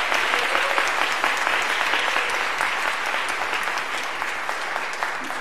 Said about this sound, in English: let us please give Andre another rousing round of applause